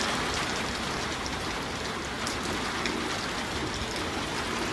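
Steady, dense rainfall from a summer storm after several hot days, a loud continuous hiss of drops striking surfaces with no pauses and no voices.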